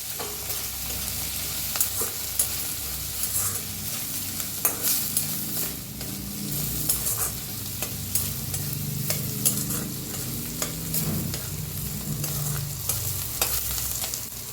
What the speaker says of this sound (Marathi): हळद टाकून जरा भाजून घेऊया।